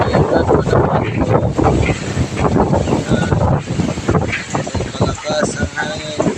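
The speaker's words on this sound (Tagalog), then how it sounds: "Ganito na kalakas ang hangin sa amin" Strong early-morning wind by the sea gusts steadily into the microphone, a continuous roaring buffet with a person talking throughout.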